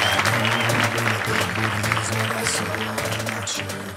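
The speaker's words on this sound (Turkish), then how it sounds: "Alkışlarla uğurluyoruz." A talk show studio audience applauds a departing guest, dense clapping across the room that stays strong and tapers slightly, with music playing underneath.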